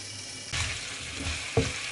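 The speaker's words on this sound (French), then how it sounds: "On remue de temps en temps pour pas que ça brûle." Vegetables frying in a pan for a Chinese-style beef with black bean sauce, a steady sizzle under low heat broken by a few sharp scraping stirs near the end, no voices.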